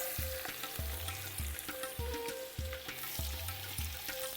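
Sliced onions dropped into hot oil with whole spices for a mutton dish, crackling and sizzling close up while a utensil clacks and stirs in a regular rhythm.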